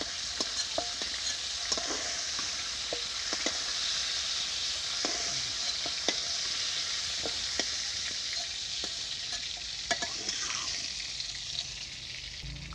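Cauliflower pieces frying in hot oil in a kadai, a steady dense sizzle with scattered sharp crackles and spatters, close and continuous with no talking.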